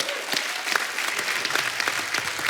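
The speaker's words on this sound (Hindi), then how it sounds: "तालियां बहुत हैं।" A studio audience at a Kapil Sharma comedy show claps in a brief, dense burst of applause with no speech over it.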